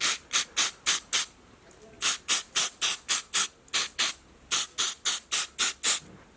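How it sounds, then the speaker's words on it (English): Mass airflow sensor cleaner is sprayed onto the MAP sensor from a 2014 Fiat 500 in a series of about twenty short, sharp hissing bursts, grouped in quick runs with brief pauses, loud and close, without speech. "Get yourself some mass airflow sensor cleaner. Take the sensor and then we gently"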